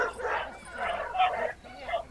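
Dogs at an agility championship give repeated short barks and yips in quick bursts, moderately close, with some whimpering mixed in.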